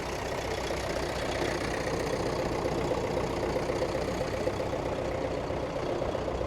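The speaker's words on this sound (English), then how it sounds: "he's got his Fordson tractor" A vintage Fordson tractor engine idles at a steady, low throb at a ploughing match, close and continuous with an even rumbling chug and no talk.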